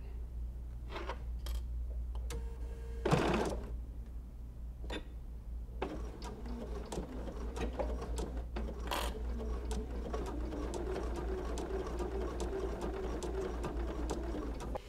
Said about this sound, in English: So I've just zigzagged right along this edge with a nice long wide zigzag